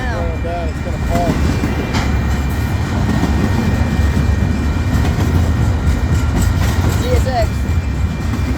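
Union Pacific freight train rolling past on a crossing by Highway 92 in Excelsior Springs, Missouri, a steady loud rumble with rhythmic clatter of cars throughout and a horn-like tone near the start and end.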